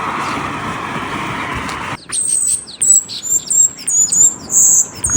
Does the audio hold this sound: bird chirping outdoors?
yes